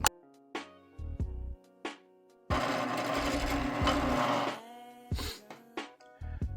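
A drill press boring a 2 mm hole in a small metal shaft, lubricated with a few drops of cutting fluid, running in several short whirring bursts with one long sustained cut in the middle, close and clear.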